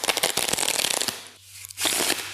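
A deck of playing cards is shuffled up close during a magic trick, with crisp riffling bursts, a brief quiet gap, then another burst of shuffling.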